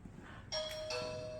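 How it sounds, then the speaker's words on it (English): An electronic doorbell chimes twice in quick succession, fairly faint and slightly distant, over a low background hum. "that's my doorbell"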